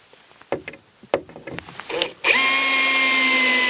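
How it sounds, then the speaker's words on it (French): Power screwdriver driving coloured-head screws into façade cladding boards, heard as a few short bursts and taps before a loud, steady whine that runs to the end, close by with no talk. "En haut, je visse avec les vis à tête colorée"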